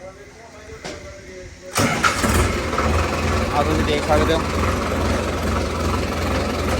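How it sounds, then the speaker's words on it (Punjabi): A tractor engine cranks and catches with a sudden roar, then settles into a steady low, rumbling idle, close by, while someone speaks briefly over it. "ਇੱਕ ਵਾਰੀ ਸਟਾਰਟ ਕਰਕੇ ਦਿਖਾ ਦਈਏ ਆਪਾਂ"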